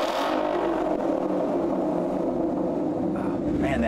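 A car engine revs loudly and steadily up close through a Thermal R&D Velocity performance exhaust system, with a deep throaty exhaust rumble throughout.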